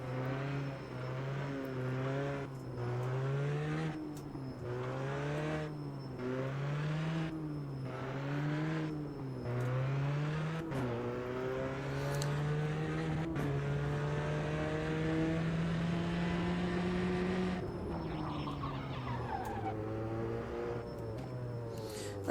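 A race car in the Automobilista 2 sim racing game drives a track on cold tyres, its engine repeatedly climbing through the revs with sharp gear shifts, then holding a long sustained wail before easing off.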